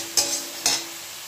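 Fish frying in spiced oil, two sharp stirring scrapes over a soft background sizzle in a short stretch with no talk.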